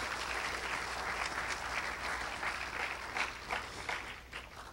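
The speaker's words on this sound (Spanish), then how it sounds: "Vamos a recibir con un fuerte aplauso" An audience at a technical training institute gives a speaker a warm welcome, a sustained round of clapping from a room full of young students that tapers off at the end.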